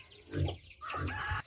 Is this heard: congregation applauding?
no